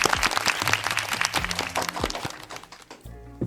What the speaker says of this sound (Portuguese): Uma salva de palmas para o Jonathan Rodrigues.